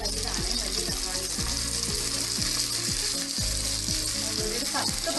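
Chopped tomatoes hit hot oil in a pan for beef curry, setting off a loud, steady sizzle and frying crackle, with repeated scraping strokes as the mixture is stirred.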